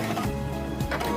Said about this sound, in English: on this machine we also have an automatic thread trimmer